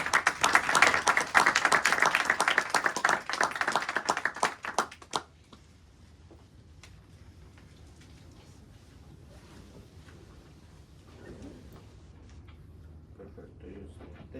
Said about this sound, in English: Warm applause for Ricardo.